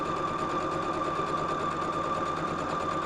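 Sewing machine stitching a large 80 by 96 quilt, a steady continuous motor whir with a strong even hum, running alone without pause throughout.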